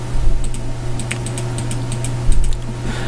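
Fingers type on a computer keyboard in short clusters of crisp clicks over a steady fan hum, close by and with no voice.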